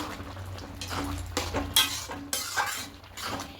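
A ladle stirs masoor dal cooked with Malabar spinach and potatoes in a pot, with repeated scraping and metallic clinks at a steady, moderate level and no talking.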